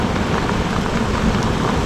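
Heavy rain mixed with small pea-sized hail pours down in a steady, dense wash of noise, loud and close, with no talking.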